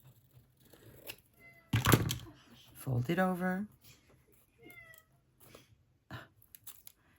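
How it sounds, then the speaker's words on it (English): A cat meows loudly twice, close by, the second call longer and drawn out, while a person speaks briefly and quietly nearby. "We have a meowing cat."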